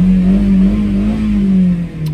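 A loud car engine holds a deep, sustained drone, the pitch rising slightly and then easing off, close by with no talking.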